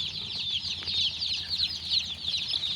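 A batch of 150 newly bought baby chicks, slightly chilled and huddled together, chirp in continuous high, overlapping peeps at close range with no talking.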